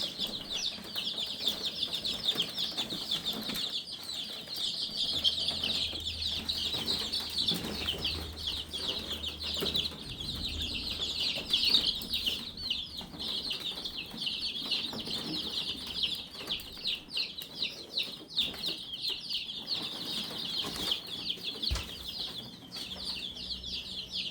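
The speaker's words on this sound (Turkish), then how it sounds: "Evet arkadaşlar civcivlerimiz 35 adet" A dense, continuous chorus of high-pitched cheeping from about 35 chicks, with occasional soft flutters and rustles, fairly close throughout.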